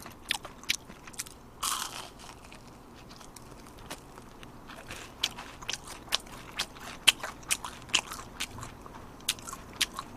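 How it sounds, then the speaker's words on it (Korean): Crisp crunching bites into fried squid rings sound up close, scattered irregularly with short quiet gaps between them and no talking. "여기 또 오징어 링도 상당히 바삭해 보이는데"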